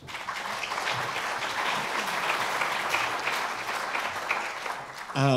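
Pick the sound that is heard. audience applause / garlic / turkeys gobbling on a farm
audience applause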